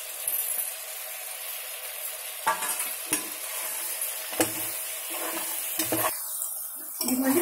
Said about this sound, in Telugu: కాలీఫ్లవర్ కూడా వేస్తున్నాను. ఇవన్నీ బాగా కలుపుకుందాం.